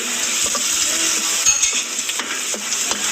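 Onion and tomato go into a frying pan with browned garlic, giving a close, steady sizzle punctuated by scraping stirs and light clinks of a utensil against the pan.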